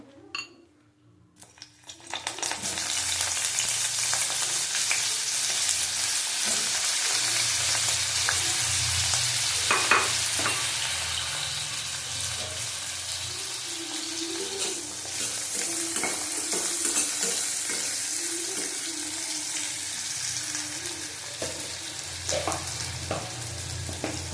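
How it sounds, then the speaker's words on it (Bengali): Eggplant pieces deep-fry crisply in hot oil in a wok, a steady loud sizzle running throughout with occasional clinks and stirring scrapes of a utensil. "বেগুনটা আগে ভেজে নেবো, কড়াভাবে ভাজবো বেগুনটা।"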